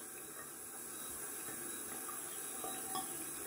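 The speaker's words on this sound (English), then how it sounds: "Cold water rinse." Water runs steadily from a tap for a cold rinse after a wet shave, a faint continuous hiss and trickle with small splashes, alone and at low level throughout.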